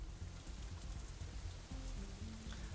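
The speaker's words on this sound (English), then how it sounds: "it's still raining outside when we exit the Shanghai, though it seems to be letting up a little" Steady rain falls outside, heard as a constant hiss of drops on surfaces, with a soft low musical tone running underneath in a Katawa Shoujo game scene.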